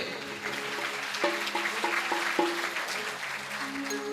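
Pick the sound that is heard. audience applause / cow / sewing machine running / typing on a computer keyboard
audience applause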